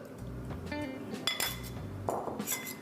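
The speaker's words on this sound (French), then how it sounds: "On bat les œufs." Eggs beaten in a bowl for a gluten-free chocolate cake, a close run of quick clinking and tapping against the bowl with some scraping, steady and alone without talk.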